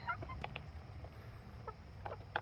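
Backyard hens, including a Rhode Island Red and a gold-laced Wyandotte, give short scattered clucks and soft murmurs at close range over a quiet background.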